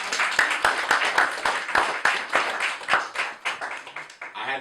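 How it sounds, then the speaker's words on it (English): Clapping from an audience at the Clarke House Debates, a series of distinct sharp claps in an uneven rhythm that sounds like a modest group rather than a big crowd, fading as a voice begins at the end. "Give them a round of applause."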